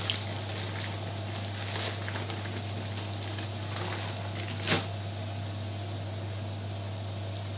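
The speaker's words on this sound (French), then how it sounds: "je mets l'huile dans la poêle pour faire les petits frites" Chips fry in oil in a pan on a home kitchen stove while a tagine is prepared, giving a faint, steady hissing sizzle with a brief knock or clatter near the end.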